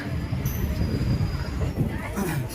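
A local train runs between Cuttack and Puri, a steady low rumble of wheels and carriage noise filling the whole stretch, with faint higher squeals now and then.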